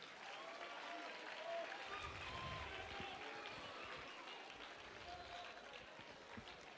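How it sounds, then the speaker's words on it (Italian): An audience applauds the Naples scenography academy students of Studio Eliantus at a theatre show, steady dense clapping that fills the room throughout, with some crowd murmur underneath. "Vorrei il primo applauso fosse per loro."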